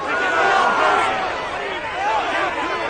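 A huge football stadium crowd at a Giants–Cowboys game swells into a sustained roar, rising and falling as thousands of fans yell together, loud and continuous.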